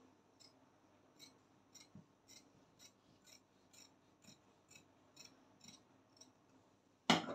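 Fabric scissors snip slits into cloth for a sewn wrap abaya, a quick run of about a dozen crisp, close, evenly spaced cuts, ending with a louder rustle of handled fabric.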